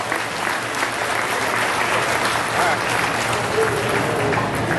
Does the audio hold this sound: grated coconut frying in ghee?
no